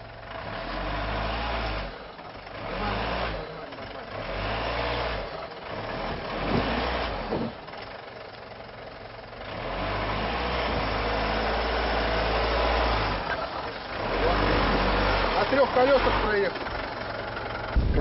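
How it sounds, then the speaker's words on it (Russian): An off-road car's engine runs near Blue Lake in Tatarstan, a loud low rumble that swells and dips as it revs, with people talking over it throughout. "Проверенная машина, проверенная на Байкале."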